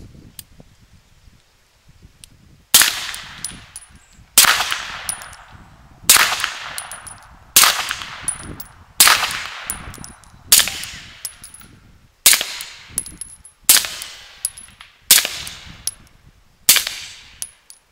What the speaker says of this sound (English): you're hearing more of the ricochets and the rounds flying down range with 158 grain than you did with 124 grain